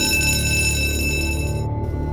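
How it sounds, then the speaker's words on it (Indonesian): A school bell rings to signal the break, sounding as a steady, even electronic-style tone that stops abruptly near the end. "walau bel istirahat sudah berbunyi"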